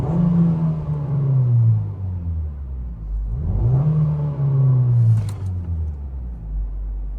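2007 Nissan Qashqai 1.6 litre 4-cylinder petrol engine revved twice, the pitch climbing and falling back each time, loud and close with a steady idle rumble between and after, no talking.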